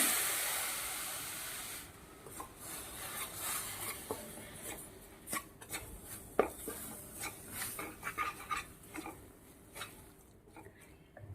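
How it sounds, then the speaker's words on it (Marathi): Ingredients for paan masala modak, sugar and milk among them, are sautéed in a pan over a low flame, giving a soft steady sizzle broken by scattered scraping and clinking of a spoon against the pan. "हे सगळं मी मंद आचेवर परतून घेते"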